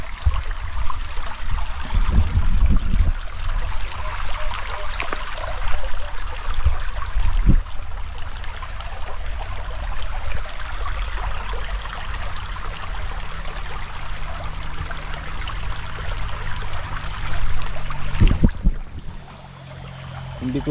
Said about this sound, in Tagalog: May sapa man yun.